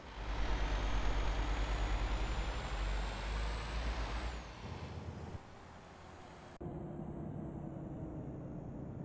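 Heavy truck in Euro Truck Simulator 2 pulling away, a loud low engine rumble with rising tone and air brake hiss, steady and close, no talk.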